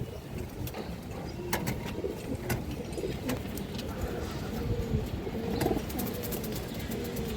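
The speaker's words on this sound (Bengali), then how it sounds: "খড়াগলা মাদি কবুতর আছে, একদম পিওর অরিজিনাল খড়াগলা মাদি কবুতর দর্শক" Giribaz pigeons cooing in a loft, repeated soft low coos over a constant background hum, with occasional sharp clicks and rustles, no talk.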